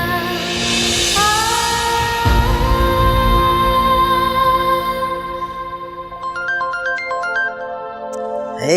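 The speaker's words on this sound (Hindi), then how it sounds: "किसका फोन आ गया?" A phone ringtone plays a loud, sustained electronic melody with layered tones, followed by quicker repeated beeping notes near the end, standing alone without talk.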